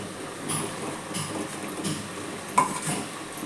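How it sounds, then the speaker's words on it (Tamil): A spoon stirs mushrooms and mint in a cooking pan, with soft scraping and light metallic clinks at a moderate, close level, a sharper tap near the end. "இது 2த்தையும் நல்லா கிளறி விட்டுக்கோங்க"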